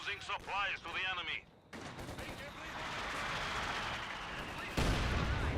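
Mortar blasts and gunfire from a Company of Heroes 2 battle, with a dense rumbling stretch of explosions and rattling shots after a short burst of voices, ending in a louder crash near the close.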